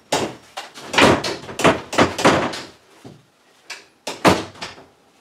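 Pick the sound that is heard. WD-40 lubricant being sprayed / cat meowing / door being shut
door being shut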